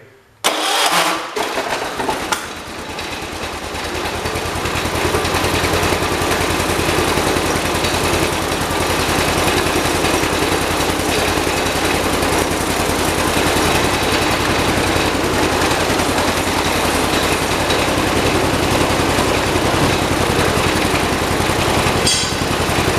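A John Deere 216 lawn tractor engine cranks and catches after about two seconds, then runs at a steady, loud, even drone for the rest of the clip.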